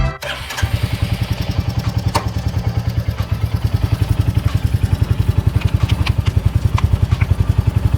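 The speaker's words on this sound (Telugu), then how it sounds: "ఇప్పుడు అగైన్ బండి మళ్ళీ స్టార్ట్ చేశాను" A Royal Enfield Bullet motorcycle engine starts and settles into a steady, loud idle with a rapid, even thumping beat that continues close by throughout, with no one talking.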